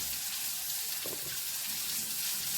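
Greens are washed under a running kitchen tap, giving a steady, even hiss of flowing water with a faint splash in the middle.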